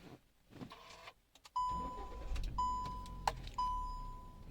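A Hyundai i20 engine starts after a short quiet pause, with a brief starter whir and then a steady low idle. Repeated electronic chimes ring over the idle and stay clear and close.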